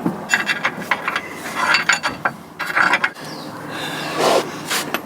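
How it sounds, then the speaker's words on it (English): A ratchet spanner clicks in quick bursts as it tightens a 21mm bolt on a Land Rover Freelander 2 lower suspension arm, close up, with irregular rattling strokes and short pauses between them. "Once you get it tightening, the spanner stays put."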